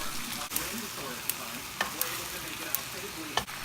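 Bok choy greens stir-fry in a pan for a vegetarian noodle dish, a steady quiet sizzle broken by several crisp spatula clacks against the pan; no talk.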